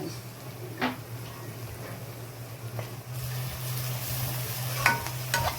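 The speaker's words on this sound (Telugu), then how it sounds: "ఇవన్నీ కూడా కొంచెం పచ్చివాసన పోయేంత వరకు కూడా మనం వేయించుకుందామండి" Cumin, cumin powder and garam masala fry in a pan as a spoon stirs them. Scattered scraping strokes cut through a low sizzle that grows louder and busier toward the end, with nearby kitchen clatter. No one speaks.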